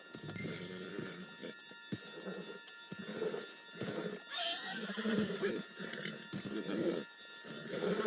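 Horse neighing and hoofbeats from the Red Dead Redemption 2 video game, a whinny rising over a steady background of game sound and clip-clop footfalls, with voices talking throughout.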